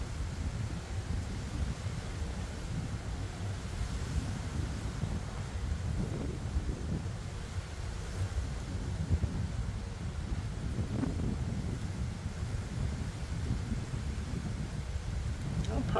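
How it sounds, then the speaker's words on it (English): Steady wind at about 15 mph roars across an outdoor microphone throughout, a continuous loud rumbling buffet with no pauses. "I got about a good 15 mile an hour wind today. It's very noticeable."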